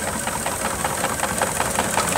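A 4.5-inch scale Boral miniature steam traction engine named the Duchess, built in 1987, runs in a rally parade with a steady, hissing, mechanical churn, close and fairly loud, with no voices.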